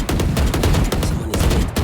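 Rapid, loud bursts of automatic gunfire in a first-person shooter video game pound on without a break, with overlapping shots close at hand.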